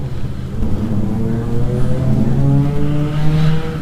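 A Corvette race car at Buttonwillow raceway revs hard with a loud, steadily rising engine tone that climbs through the gears, close and continuous for a few seconds with no talk.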